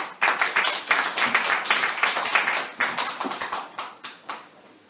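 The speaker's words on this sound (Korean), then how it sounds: "큰 박수로 환영해서 들읍시다" Applause greets a professor arriving to give a lecture at a monthly gathering: a small audience claps in uneven, separate slaps that swell and then thin out toward the end, with no talk over it.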